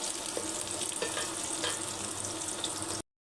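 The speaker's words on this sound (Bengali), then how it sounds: "আলুটাকে 10 মিনিট ধরে ভালো করে মিডিয়াম আঁচে ভেজে নিতে হবে" Potatoes fry in oil in a pan over medium heat, a steady close crackling sizzle with small pops that runs unbroken for about three seconds and then cuts off abruptly.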